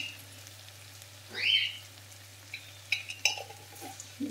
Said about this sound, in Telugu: ఒకసారి బాగా కలుపుకొని